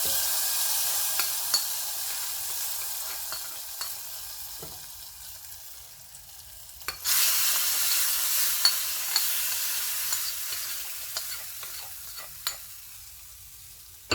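A steady hiss of hot oil fills the pan, then a louder sizzling burst as tempering is poured in, with occasional clinks, near and without speech.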